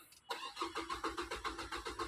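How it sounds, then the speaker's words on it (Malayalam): A Nissan Evalia engine with a rail-pressure starting fault is cranking in a steady, rhythmic series of pulses after a brief pause, loud and close, with no speech. "വണ്ടി സ്റ്റാർട്ട് ചെയ്യുക"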